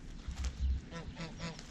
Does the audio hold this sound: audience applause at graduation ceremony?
no